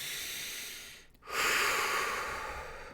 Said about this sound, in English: taking a deep breath in, deep breath out.